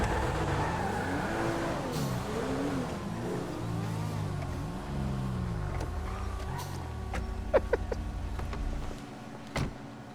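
In a Paris roleplay video game, a car engine pulls away with revs that rise and fall in repeated sweeps, then settles into a fading hum, with a few sharp clicks near the end.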